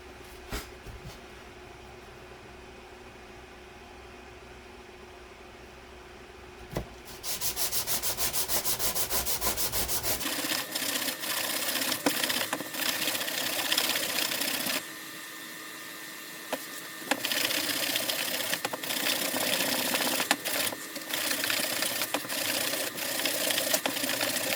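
A sanding block is worked by hand to scrub dried glue off a wooden surface. After a few quiet seconds, a steady, close, coarse rasping starts and carries on continuously without a break.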